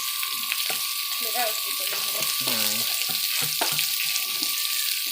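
Whole cumin seeds fry in hot oil with a steady, close broadband sizzle that runs unbroken throughout, while a faint voice or clink briefly surfaces in the middle.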